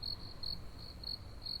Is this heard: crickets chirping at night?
yes